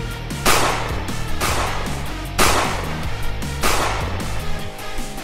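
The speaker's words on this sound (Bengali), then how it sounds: "এর মধ্যে হঠাৎ গুলিবর্ষণ শুরু হয়ে গেল।" Sharp, loud gunshots crack three times at roughly even intervals over a dense rumbling background, each burst decaying quickly.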